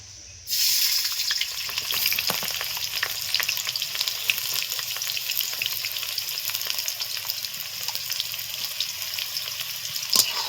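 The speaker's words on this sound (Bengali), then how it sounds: "তেল গরম হয়ে গেছে একদম সরু সরু করে কেটে রাখা পেঁয়াজ দিয়ে দিচ্ছি" Thinly sliced onions hitting hot mustard oil in a wok, a sudden loud sizzle that starts abruptly and then holds as a dense, steady crackling fry with occasional sharper pops, close up and with no voices.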